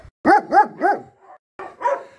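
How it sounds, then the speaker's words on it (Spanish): Several dogs bark in a rapid run of three close yaps, then a pause and two more barks, loud and near on a rural road near Berja. "Esto se ha convertido en una jauría de perros."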